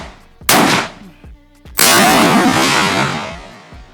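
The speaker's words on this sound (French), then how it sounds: "Donc là je vais lui en remettre 5 en tirant où je visais tout à l'heure. Mais sans le modérateur." Two loud, sharp unsuppressed 5.56 rifle reports outdoors, each a sudden blast followed by a long rolling echo, with a quiet gap between them.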